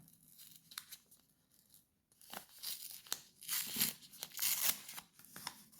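A sticker-sealed paper letter being torn open, with several crisp tearing and crinkling bursts that grow louder and denser toward the end, heard close up with no talking.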